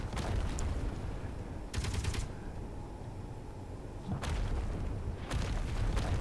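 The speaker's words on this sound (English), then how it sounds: "I don't know what I was shooting at there" Gunfire in the space game Space Engineers, several short bursts of rapid mechanical shots spaced over a continuous dense hum, each burst loud and close.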